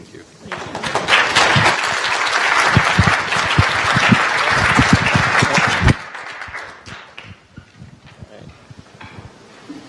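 Audience applause at the close of a conference panel at the MIT Bitcoin Expo, a dense sustained roar of many clapping hands that drops sharply partway through to a thinner, scattered patter.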